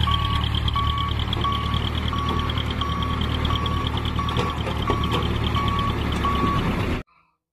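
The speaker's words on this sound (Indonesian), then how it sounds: "Di sini ada mobil truk pasir." A toy sand truck plays its sound effect: a rapid run of evenly spaced electronic beeps over a buzzing engine drone, loud and near, which stops abruptly after about seven seconds.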